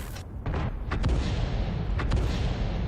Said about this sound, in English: Now the M12 and the M53 have both fired at the convoy